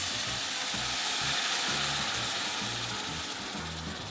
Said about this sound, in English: we're just going to deglaze now with a little bit of white wine